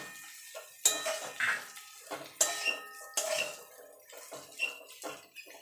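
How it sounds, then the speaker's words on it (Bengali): A metal spoon scrapes and clinks against a pan while ground chilli powder and turmeric are mixed into bitter gourd and potatoes, in uneven bursts of knocks and rattles close by. "দিয়ে ভালো করে গুঁড়ো মশলাগুলো মিশিয়ে নেব।"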